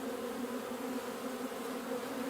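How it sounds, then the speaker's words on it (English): Honey bees buzzing at a hive entrance during a beekeeping inspection, a steady dense drone from many insects close by, continuous and even with no talking over it. "Yeah, look at these bees. They are trying to get out."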